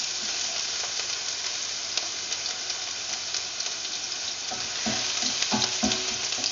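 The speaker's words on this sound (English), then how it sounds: "Now the oil is hot, so do the garlic. Give it a stir until it turns golden brown." Garlic frying in hot oil for a Filipino fried sea bream escabeche, a steady close sizzle with occasional stirring scrapes and clinks growing busier toward the end, no voices.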